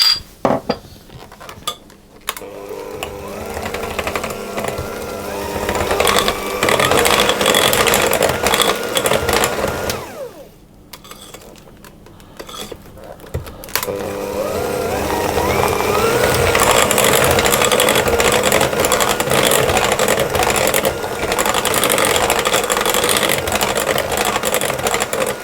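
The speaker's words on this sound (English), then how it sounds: "I'm going to whisk that around as well." A whisk beating lemon zest and vanilla extract into a sugar mixture in a bowl, a fast continuous rattling clatter against the sides, loud and close, with a brief pause partway through.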